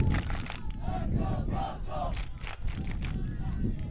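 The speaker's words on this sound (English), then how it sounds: "Crowd getting into it now as well." A soccer crowd in the stands at a varsity boys' championship match roars and cheers steadily, with rising chants and yells carrying throughout, loud and continuous.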